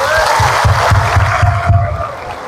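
A church congregation claps together in a quick, rhythmic burst of applause, the sharp hand claps repeating evenly before fading out.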